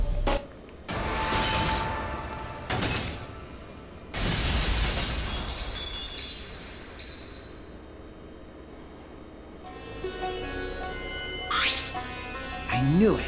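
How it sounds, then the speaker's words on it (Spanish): In the Danganronpa V3 video game, a thrown hammer shatters a pane of glass, giving a loud crashing burst followed by tinkling debris and later sharp chiming game effects, with no voices. "Tomé el martillo en mi mano, me puse enfrente del vidrio y de mí y lo aventé lo más fuerte que pude."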